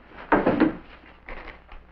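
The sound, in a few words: top drawer being opened to look for a toothpick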